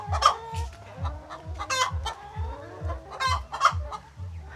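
Chickens cluck steadily in a rhythmic, close chorus while a rooster crows a few times over them, with no talking.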